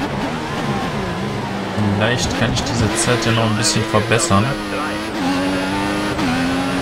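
Formula 1 car engine in F1 2014 during a qualifying lap at China, a loud continuous high-revving whine that shifts pitch through gear changes and braking, with someone talking over it.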